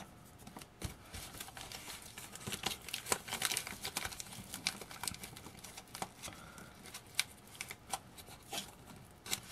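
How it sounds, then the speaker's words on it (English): Sheets of paper crinkle and rustle while being handled and layered over reeds during the rim-lashing stage of a rolled paper basket, with steady crisp crackles close by and no talking. "I have another piece of paper I'm going to add"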